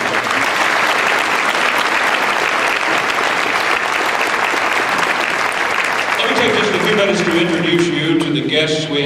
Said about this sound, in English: That deserves another round of applause.